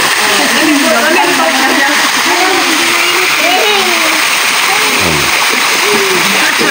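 Splashing from people swimming at night in a resort pool at Panglao, Bohol, a steady broad wash of water with scattered voices and chatter throughout, close and fairly loud.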